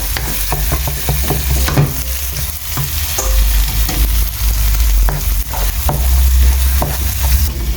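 Gravy frying loudly in a pan while being stirred, a steady close sizzle with repeated scraping strokes of the spoon throughout and no talking.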